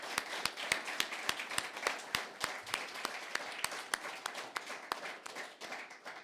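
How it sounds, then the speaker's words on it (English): Hands clapping after a panel discussion on European regulation and economic potential, a fairly quiet, sparse run of distinct claps at an even pace, sounding like a small group or a single clapper, continuing alone without talk. "I would like to ask for a warm round of applause for"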